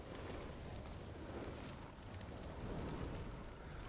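A campfire crackles and roars steadily in a cold mountain setting within a video game, a dense, continuous rushing hiss with scattered pops, close and even throughout.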